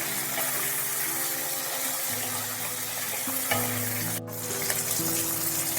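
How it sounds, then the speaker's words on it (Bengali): Oil sizzles steadily as flat beans fry in a pan for spinach chachchari, a constant crackling hiss with a faint tap-like click partway through. "শিমটা তেলের সাথে একটু ভাজা ভাজা হয়ে যাওয়ার পর"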